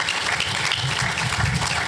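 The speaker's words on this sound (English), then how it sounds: "Please give them a round of applause." Audience applause at a university athletics event, a dense steady wash of many hands clapping with no voices.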